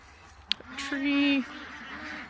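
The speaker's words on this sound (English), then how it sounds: "And there are some, hi ducks." Ducks outdoors on a spring homestead give a short, fairly close honking quack after a sharp knock, with a person speaking around it.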